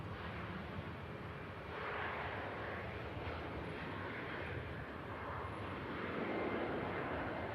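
Ryanair Boeing 737 MAX 8-200 jet at Manchester Airport, heading off to Malta, giving a broad, steady engine roar that swells slightly partway through and holds at a moderate distance with no voices.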